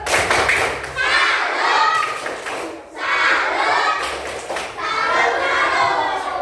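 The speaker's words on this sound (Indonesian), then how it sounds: "Kasih mereka tepuk salut." Children clap together in a patterned salute clap after a group presentation in a classroom, three loud rhythmic bursts separated by short pauses, with kids' voices mixed in.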